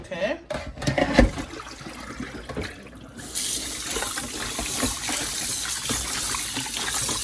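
Water runs from a kitchen tap into the sink as oxtail meat is washed. The flow is steady and grows fuller partway through, with some splashing and people talking over it.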